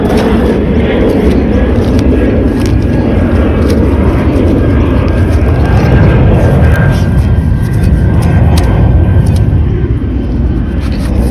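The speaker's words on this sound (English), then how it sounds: "These planes around here are noisy." Airplanes fly over an area being searched with a metal detector after rain, a loud, continuous engine roar that swells slightly midway and fills the whole stretch, with no talk.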